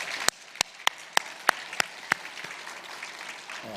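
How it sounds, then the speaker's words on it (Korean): A church congregation claps together in thanks, about eight sharp, evenly spaced claps in a steady rhythm over a soft room murmur, trailing off toward the end. "감사와 또 한송의 마음을 모아서 박수 한번 하겠습니다"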